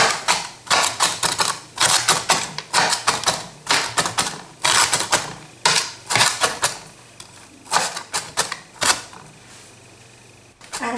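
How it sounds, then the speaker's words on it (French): Large knife chopping carrots and zucchini on a board for a Ramadan iftar meal, sharp rapid taps in quick bursts with short pauses, close and crisp, no talking. "je vais prendre le grand couteau et je vais les couper comme ça."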